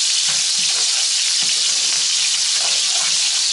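Breaded steaks frying in a pan give off a loud, dense, even sizzle that hisses without a break, with faint spatters popping underneath.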